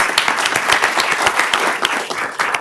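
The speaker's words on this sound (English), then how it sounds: "Let's do an enthusiastic round of applause for all of our new hires and promotions." Loud, close round of applause at a city council meeting in Elk Grove, many hands clapping steadily throughout with dense crisp claps and no talking.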